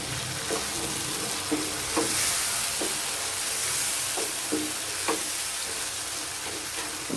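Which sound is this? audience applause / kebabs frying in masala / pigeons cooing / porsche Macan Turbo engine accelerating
kebabs frying in masala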